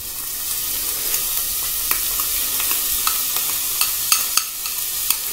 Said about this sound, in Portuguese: Após ter fritado o alho, pessoal, eu vou colocar a cebola.